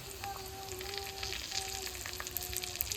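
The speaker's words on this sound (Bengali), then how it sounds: "জিরে তেজপাতা দুটো শুকনো লঙ্কা তেলে দিয়ে দেবো" Cumin seeds, bay leaves and two dried red chillies sizzle in hot oil for a Bengali home-cooked meal, a steady crackling fry with two faint tonal hums running underneath, no voices.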